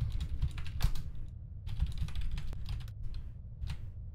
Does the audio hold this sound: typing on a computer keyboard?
yes